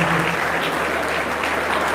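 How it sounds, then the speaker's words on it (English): A crowd claps continuously and densely at a university Founders Day ceremony, a steady wash of applause throughout. "Yes, clap for them."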